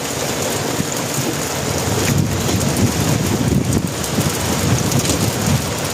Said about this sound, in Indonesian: Parah hujan tuh hujan lah.